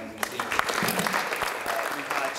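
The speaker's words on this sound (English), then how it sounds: "Can we get another huge round of applause for all of our amazing speakers?" An audience at a talk event on voting reform and democracy applauds the speakers with a dense, steady round of clapping, close and full throughout.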